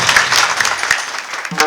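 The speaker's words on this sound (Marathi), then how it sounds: "शाबास. टाळ्या." An audience at a Marathi devotional kirtan breaks into brisk, loud clapping, a dense burst of hand claps close by that thins out toward the end.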